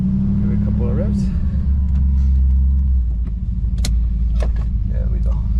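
A Ford Fox Body Mustang with failing brakes runs with a loud, deep engine rumble close by, the tone shifting as it is revved, while people talk over it.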